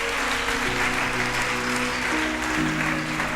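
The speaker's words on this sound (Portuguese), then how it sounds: "Se você entendeu, uma salva de palmas para o Senhor" A church congregation claps together in dense, sustained applause, loud and even from start to finish, with a steady organ-like tone held beneath it and no speech.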